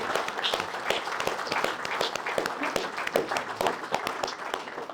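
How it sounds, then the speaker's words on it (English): A crowd applauds at a match fishing cup final, with distinct individual claps popping through a lively, fairly close round of clapping that keeps going without a break. "Huge round of applause for you guys."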